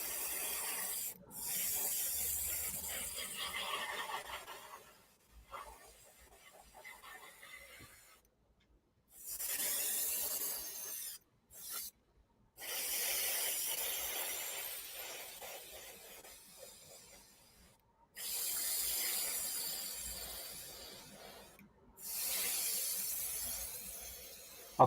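Airbrush or spray paint hisses in bursts of several seconds onto a 1/24 Italeri plastic scale model truck, stopping and starting with short silent gaps, close and steady with no talk.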